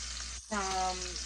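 Ground turkey frying in a pan of leftover sausage oil, a steady close sizzle that briefly drops out and returns louder as the meat is stirred.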